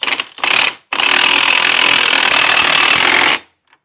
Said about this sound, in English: Now I'll go up top and start all 3 of the bolts and tighten them down